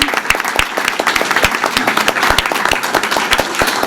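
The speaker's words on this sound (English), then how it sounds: "can we give them a round of applause for that commitment to their education?" Audience applause at a school board of education meeting, a dense, steady burst of many hands clapping close by for several seconds.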